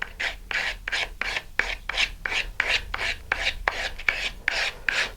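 A file rasps back and forth across a tube edge to round it off, about a dozen steady, evenly paced strokes, close and clear with no voices.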